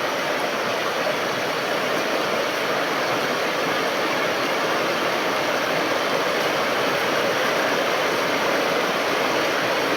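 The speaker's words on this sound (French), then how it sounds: "rivière peu profonde, mais il y a quand même du courant" Steady rushing water of a shallow river current flowing continuously over stones, a constant broadband wash with no pauses, close and fairly loud throughout.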